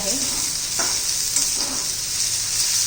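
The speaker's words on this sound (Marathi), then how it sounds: "आता कांदा आपण जरा ट्रान्सपरंट होऊन घेऊया" Onion frying in a pan for a methi bhaji, sizzling steadily with a bright hiss, broken by a couple of soft stirring scrapes, close and continuous with no talk.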